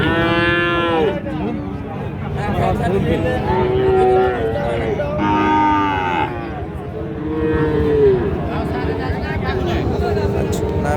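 Sahiwal cattle at a busy livestock market give several long, loud moos one after another, with people talking nearby.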